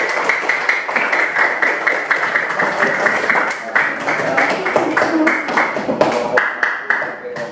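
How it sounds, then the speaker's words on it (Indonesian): Classroom applause for a group that just presented: a crowd of students clapping steadily and fairly close, with an adult voice speaking over the clapping. "Kita beri aplaus tepuk tangan untuk kelompok 4 yang telah mempresentasikan hasil diskusi kelompok."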